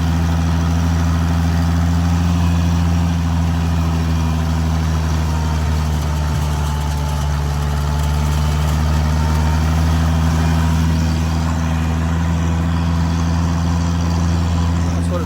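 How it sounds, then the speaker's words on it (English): A tractor runs steadily in a pasture, its low engine drone and strong harmonic hum holding constant and fairly loud for the whole stretch, with no talk over it. "My son Chris out there running the tractor now."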